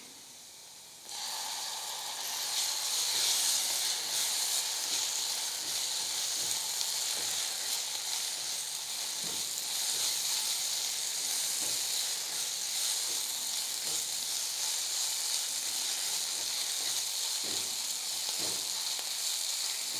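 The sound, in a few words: ginger garlic masala and spices sautéing in oil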